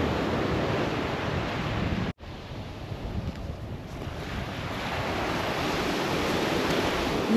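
Ocean surf rolling onto the beach at Sokcho, a steady broadband wash of waves with wind buffeting the microphone, loud and continuous apart from one brief dropout.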